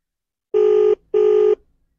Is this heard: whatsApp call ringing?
yes